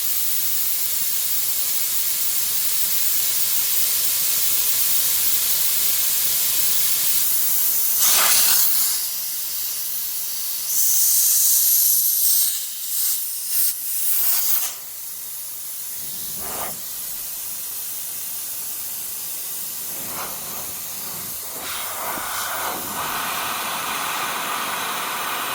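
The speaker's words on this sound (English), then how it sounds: "Makes a right row when the bloody airline pops off." Compressed air hisses loudly from an airline that has popped off under a vehicle dashboard, a steady rushing jet with brief surges and dips as the pressure dies away.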